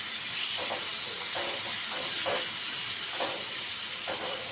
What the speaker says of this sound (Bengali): চিংড়ি মাছটা দিয়ে একটু পেঁয়াজটা আবার ভেজে নেবো